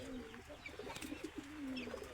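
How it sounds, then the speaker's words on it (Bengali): Pigeons kept at a home with ducks and chickens give soft, low cooing calls, a few rounded coos in a row, faint and fairly close against a quiet background, with no talking. "এদিকে কবুতর আছে"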